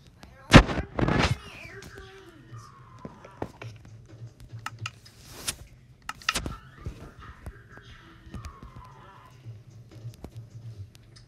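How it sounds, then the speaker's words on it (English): A sharp, loud crack of lightning followed by a heavy booming burst of thunder, then quieter scattered knocks and rumbles with some talking in the background. "Why was there a big explosion? That was lightning."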